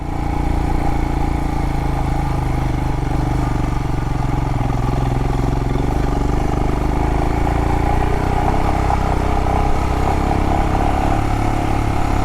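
A motorcycle running hot climbs uphill in Canyonlands, Utah, its engine a steady, close, continuous mid-pitched drone with a slight rise in pitch and some wind rush, and no voices.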